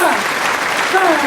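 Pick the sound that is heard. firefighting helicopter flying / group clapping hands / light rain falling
group clapping hands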